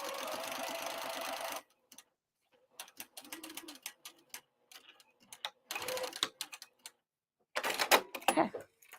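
A sewing machine runs in a sustained stitching burst on the lining side of a Zambarau crossbody bag, followed by scattered clicks, handling noises and short further runs of the machine, all close and clear with no talking.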